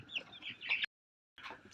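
Desi chickens being handled for vaccination cluck softly and close in two short bursts separated by a brief silence.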